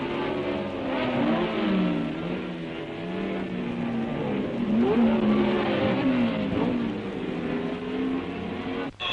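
1962 French Grand Prix race cars at Rouen accelerating past the pits, a loud, continuous engine wail rising and falling in pitch as the cars shift gears at speed.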